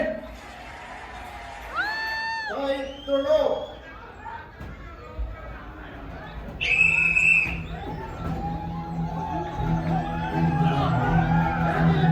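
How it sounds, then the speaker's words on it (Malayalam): An audience at an Onam skit event before a friendly corporate team match claps and cheers, with whistles and whoops rising in a swelling crowd roar over steady chatter and voices. "ഒരു വലിയ കയ്യടി കൊടുത്തേ"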